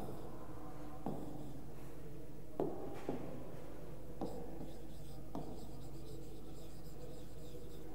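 Writing on a classroom board during a primary-school math lesson: quiet, steady scraping strokes, broken by a few distinct taps as the writing tool meets the board, with no talk.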